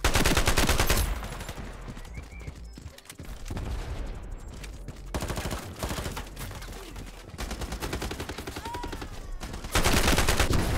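AUG rifle fire in the shooter game Ironsight: loud rapid automatic bursts at the start, middle and end, with quieter stretches of game ambience between them and no talking.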